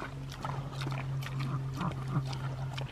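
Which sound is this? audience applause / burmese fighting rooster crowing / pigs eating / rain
pigs eating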